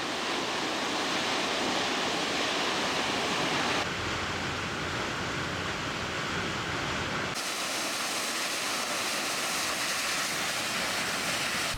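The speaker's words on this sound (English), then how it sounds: "These falls are amazing! Super loud! And the water is gushing right now." A loud waterfall in Idaho roars without letup, a dense wall of rushing, crashing water close by, with no voices.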